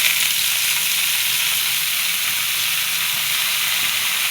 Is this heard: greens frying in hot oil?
yes